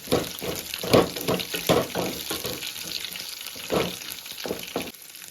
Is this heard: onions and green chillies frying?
yes